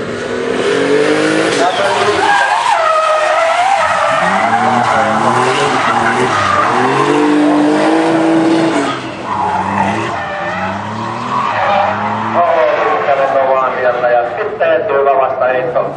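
A Volvo drift car slides at the Kemora drifting championship, its tires screeching loudly and continuously while the engine revs and surges. A commentator talks throughout.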